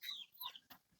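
Clucking chickens on a backyard farm, a couple of short nearby clucks and calls over quiet outdoor background.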